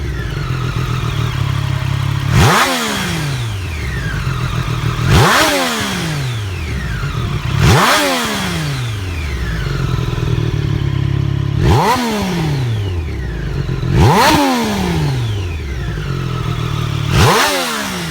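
A Ducati Panigale V4R motorcycle engine at close range, revved hard about six times at regular intervals, each sharp rise falling away to a rough, burbling idle.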